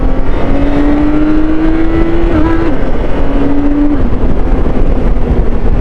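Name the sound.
inline six-cylinder motorcycle engine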